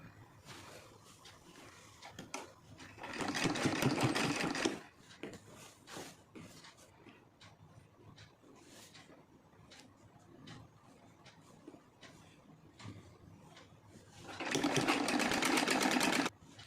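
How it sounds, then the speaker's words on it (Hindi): A sewing machine stitches folded heavy silk saree fabric, its motor running in two loud sustained bursts of rapid stitching, with quieter handling and faint background noise in between. "उसके बाद फिर हम इसके ऊपर सिलाई लगाते जाएंगे"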